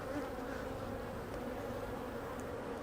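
Bees drone in a strong beehive opened for a fall inspection, a dense, continuous buzzing hum, steady and fairly close, with no speech over it.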